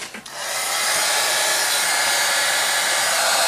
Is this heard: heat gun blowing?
yes